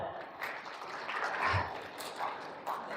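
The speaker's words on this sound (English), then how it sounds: "please give him a big round of applause there" Soft applause from a medical symposium audience thanking a speaker, a short continuous patter that is fairly faint and distant.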